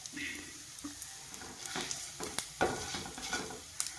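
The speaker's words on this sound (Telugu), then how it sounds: "ఇవి వన్ బై వన్ వేస్తూ ఉంటామండి వేగుతూ ఉంటుంది ఆయిల్లో మినప్పప్పు అండి ధనియాలండి" Urad dal, coriander seeds and cumin frying in hot oil with spring onions nearby, giving close, irregular sizzles and crackles broken by stirring scrapes and clinks of a utensil against the pan.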